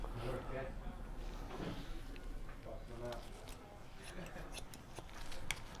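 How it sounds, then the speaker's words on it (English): Barber shears snip repeatedly at the back of a haircut during a shadow fade, a quick series of close, crisp metallic cuts under a low murmur of voices. "So now I will go in on the back of the haircut with my shears to just blend out any extra."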